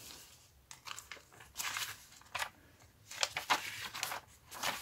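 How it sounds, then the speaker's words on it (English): Paper ruffles on a handmade journal give faint, close rustles and crinkles in short irregular bursts. "Paper ruffle."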